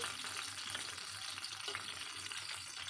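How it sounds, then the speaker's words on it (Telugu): Brinjal pieces fry in a pan while being stirred, giving a continuous soft sizzle with occasional faint scraping, quiet and without talk. "చూడండి ఈ విధంగా ఫ్రై చేయాలి వంకాయ ముక్కలన్నీ"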